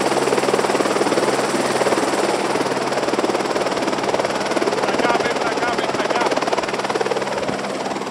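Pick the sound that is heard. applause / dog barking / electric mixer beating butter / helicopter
helicopter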